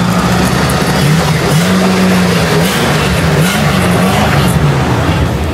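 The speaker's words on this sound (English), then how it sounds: "We got a nice V8." V8 engine of a 1966 Ford Mustang convertible running, a loud steady rumbling drone with slight pitch wavers as it idles and revs a little, close and continuous throughout.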